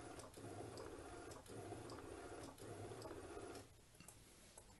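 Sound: Epson L1800 printer printing with roll feed

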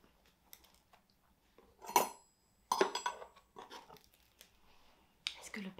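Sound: knife cutting slice of bread

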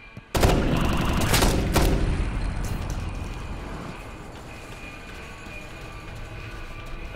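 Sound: gunfire in Ghost Recon Future Soldier video game

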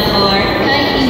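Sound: train arriving at Tokyo Disneyland

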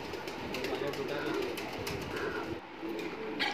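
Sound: pigeons cooing, Kalchoche pigeon pair

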